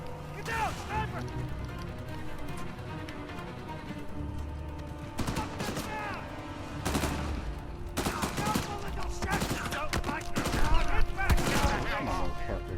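Bursts of sniper and automatic gunfire crack through a firefight in the video game Uncharted 4, with repeated loud shots clustered across the scene, some distant, under shouting voices.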